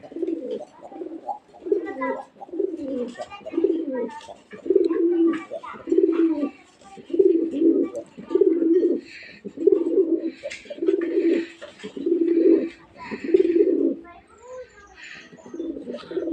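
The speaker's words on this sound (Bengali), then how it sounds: "প্রথমে আমরা কবুতরটা ডাক দেখি" A male Gorra pigeon coos repeatedly up close, low throaty calls in a steady rhythmic series, with faint chirps in the background.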